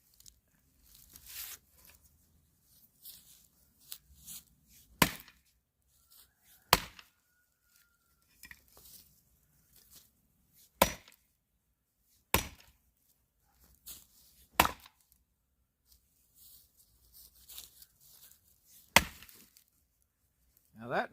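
An axe splits firewood set inside a tire, sounding as a series of sharp, loud chops spaced a few seconds apart, with quiet pauses, light knocks and wood shuffling between the blows.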